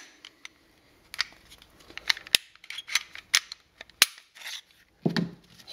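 Sharp metallic clicks and snaps from the slide being swapped on a Smith & Wesson M&P pistol, 2008 production frame, irregular handling clatter with a heavier clunk near the end, close and fairly loud, no talking.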